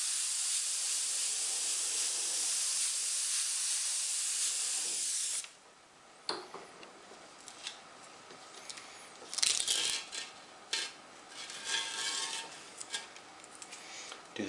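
An airbrush mists white paint in a loud continuous hiss for about five seconds, then falls quiet, followed by fainter short bursts of spray and light rubbing.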